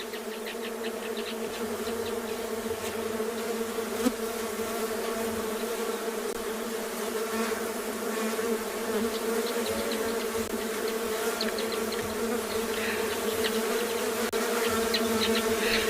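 Bees from a colony swarm around a person on safari in South Africa, a dense, steady buzzing that stays loud and close for the whole stretch, with no talking.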